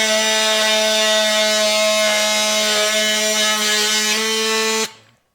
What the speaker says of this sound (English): like this oscillating tool, you can't even cut yourself on it